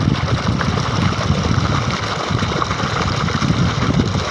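A tractor engine drives a PTO-coupled generator, giving a steady, loud, droning rumble that stays constant and close throughout, with no pauses.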